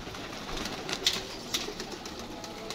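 Pigeons coo softly at a rooftop pigeon loft, faint calls over a steady hiss of background noise, with no voices.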